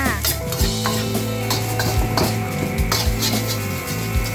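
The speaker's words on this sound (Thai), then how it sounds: "แล้วค่อย ๆ ผัดข้าวประกบได้เลยค่ะ" Rice with fermented pork sausage (naem) is stir-fried in a hot pan, with steady sizzling and repeated scraping and clinking of a spatula against the metal, close up.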